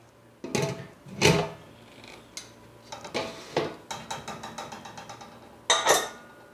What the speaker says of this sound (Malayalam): എന്നിട്ട് കുക്കർ അടച്ച്